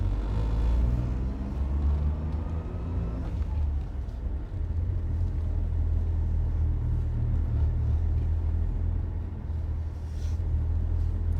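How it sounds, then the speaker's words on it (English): A 1996 Suzuki Jimny Land Venture kei SUV is driven, heard as a steady low engine rumble with an engine tone climbing as it pulls away in first gear. "we're gonna go for a ride in the Suzuki Jimny"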